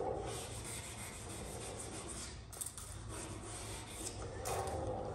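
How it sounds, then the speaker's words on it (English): Sandpaper rubs over primer on the cab of a 1972 C10 truck, a continuous close scratchy rasping with slight swells in intensity and no voices. "the tape helped guide the sandpaper to where you get a nice crisp edge"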